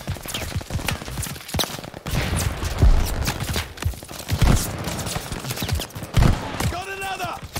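Rapid gunfire in the World War II shooter Call of Duty Vanguard, loud irregular bursts and single shots cracking in close succession throughout, with a voice briefly speaking near the end.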